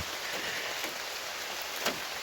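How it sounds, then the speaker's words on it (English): Heavy rain pouring down on a campsite in Vermont, a steady soft hiss of falling water with a few louder drops striking a surface, quiet and without voices. "It started pouring down raining."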